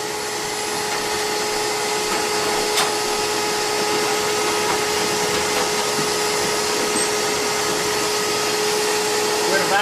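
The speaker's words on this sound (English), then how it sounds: "take off the heat exchanger plates while leaving the shop vac on" A shop vacuum drones steadily at close range while a Bixby stove is cleaned, a loud continuous whine with faint clicks and taps from work nearby.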